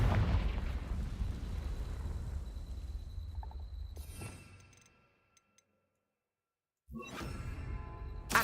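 A Confringo blasting spell bursts in Hogwarts Legacy: a heavy, booming blast with a long rumbling decay fades to near silence, then a second sharp explosive burst erupts, followed by sustained rumbling.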